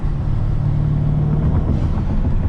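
A Mercedes C63 AMG engine on a winter drive with a cold transmission gives a steady, close, low rumbling drone that holds throughout without sharp revs.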